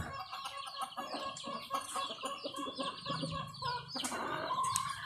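Hens cluck steadily with overlapping calls from several birds nearby, and a rooster-like call rises briefly toward the end amid busy farmyard chatter.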